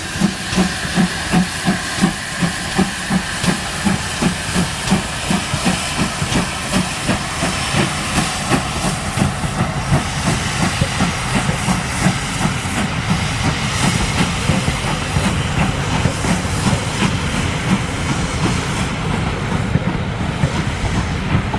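Steam locomotive Foxcote Manor working a train at Blue Anchor on the West Somerset Railway. It gives a loud, steady hiss of steam over rhythmic chuffing and rolling train noise, close by and continuous, with no talking.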